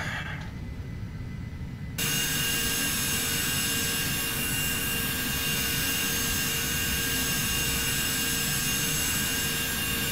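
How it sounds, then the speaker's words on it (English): A flight simulator airplane engine picked up through a headset microphone, a harsh, steady, saw-like whine and roar that kicks in abruptly after a quieter start and holds constant and loud. "I swear, your plane sounds like a concrete saw"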